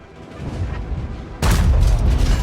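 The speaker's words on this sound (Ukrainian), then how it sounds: "Артилерія летить, обережно" Artillery fire in World of Tanks: after a low rumbling stretch, a loud broadband boom hits near the midpoint and is followed by a dense, sustained roar of gunfire and blasts to the end.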